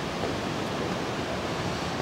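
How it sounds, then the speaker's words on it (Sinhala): Galboda waterfall in Sri Lanka gives off a constant, loud roar of rushing water, a broad unbroken hiss with no voices. "ඔන්න පේනවා ගලබඩ ඇල්ල."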